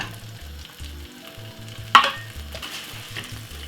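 Corned beef for Jamaican bully beef frying in a pan while a utensil breaks it up, a steady sizzle with rhythmic scraping strokes and one sharper clack near the middle, close by, with no talking.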